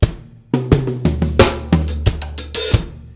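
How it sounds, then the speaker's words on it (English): A short drum groove plays alone: punchy kick and snare hits in a steady pattern, topped by a washy open hi-hat that rings out near the end. "we're going to chuck in a little open hi-hat on the"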